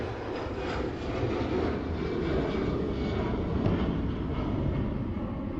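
An EasyJet Airbus A320 takes off at Manchester Airport, its jet engines producing a loud, steady broadband roar that holds evenly throughout with no break.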